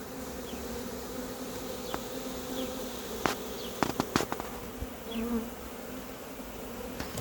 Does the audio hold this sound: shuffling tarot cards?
no